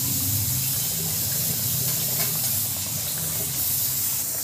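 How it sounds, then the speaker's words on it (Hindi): Papdi fry in hot oil over a medium flame, producing a steady, loud, close sizzling hiss that carries on without a break and without talk. "बस इसे ऑयल में डालना है और मीडियम आंच में इसे लाल होने तक फ्राई करना है"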